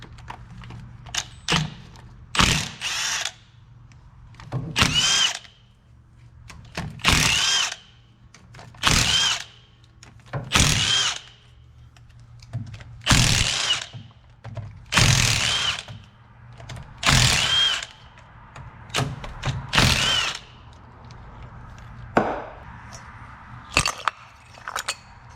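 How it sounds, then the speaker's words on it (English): Power tool spins out the 1/2-inch bolts on a Ford Explorer rear differential cover; repeated short, sharp whirring bursts of varying length, loud and close, separated by gaps, with a low steady hum beneath. "for the rear differential gasket, we can start removing our 1/2-inch bolts."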